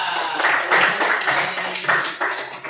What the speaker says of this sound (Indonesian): Mari beri tepuk tangan untuk kelompok 3.